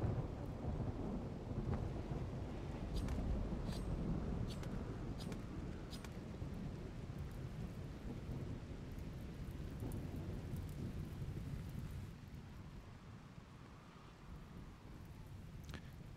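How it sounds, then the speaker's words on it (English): Steady rain and rolling thunder fill a Rimworld storm, a dense continuous wash with a deep rumble that eases slightly toward the end, heard alone without talk. "More thunder."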